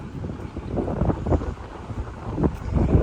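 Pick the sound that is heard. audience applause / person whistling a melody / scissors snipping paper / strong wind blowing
strong wind blowing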